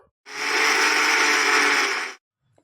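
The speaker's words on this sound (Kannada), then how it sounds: "ಇವಾಗ ಸ್ವಲ್ಪ ಗ್ರೈಂಡ್ ಮಿಕ್ಸಿಗೆ ಹಾಕ್ಕೊಂಬರ್ಬೇಕು" A mixer grinder whirs steadily for about two seconds as it grinds peanuts and jaggery, a loud, even motor roar that starts and stops abruptly.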